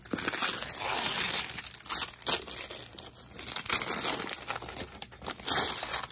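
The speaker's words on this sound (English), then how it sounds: "let's go ahead and unwrap this" Close, continuous crinkling and crumpling of plastic packaging as a G-Shock Tron GMW-B5000CS watch is unwrapped, with steady rustling that swells and dips and no talking.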